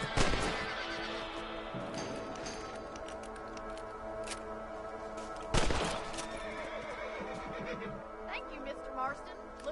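Horses in the Red Dead Redemption video game neigh and whinny with clip-clopping hooves, a loud whinny burst midway, while voices talk over much of the clip.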